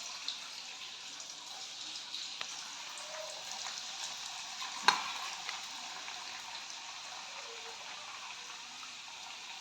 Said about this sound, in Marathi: तेल तापलेलं आहे ह्यात वड्या सोडूया आपण